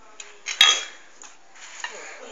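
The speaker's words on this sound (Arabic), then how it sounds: "الآن أصغر قرصون بصف الصحون في العالم." Small plates clink and clatter as they are stacked into a tiny dish rack, a few sharp ceramic knocks and light rattles, one louder clack among softer taps, fairly close.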